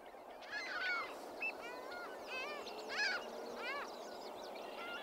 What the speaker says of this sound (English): A flock of ring-billed gulls flies right over us, calling loudly.